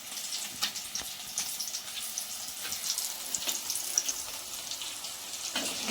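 Cut chilies dipped in batter for mirchi bajji sizzle steadily in hot oil, a soft, continuous crackle with scattered pops and no voices.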